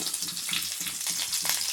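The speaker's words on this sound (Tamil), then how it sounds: "அடுத்தது வெங்காயம் சேர்த்துக்கிறேன்" Sliced onions sizzle steadily in hot oil with green chillies and curry leaves in a pan while rice upma is being made, a dense, close crackle with no pauses.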